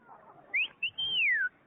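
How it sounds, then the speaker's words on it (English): A man whistles out a window at girls, a few short rising notes followed by one long sweeping whistle that climbs and then slides down, fairly clear over a quiet room. "What's the idea of whistling out that window?"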